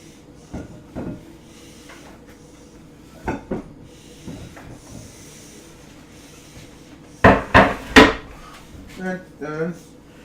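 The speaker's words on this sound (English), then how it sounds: "Scrape those into the bowl" A utensil scraping food into a bowl while making chicken salad, several short scrapes and knocks scattered through the stretch, with a cluster of louder close scrapes near the end.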